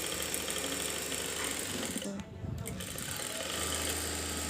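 Close and fairly loud, a sewing machine stitches the body seam of a simple blouse in a steady run, with a short pause midway before the motor picks up again.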